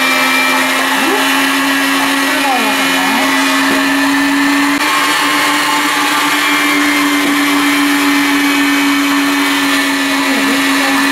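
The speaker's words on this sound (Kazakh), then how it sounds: "Мен мынау ет тартқыштан қазір кіші жүзінен өткізіп аламын" An electric meat grinder grinds yellow cherries through its small plate, a loud, steady motor whine holding one pitch throughout, with faint scraping wobbles as fruit passes, running alone without talk.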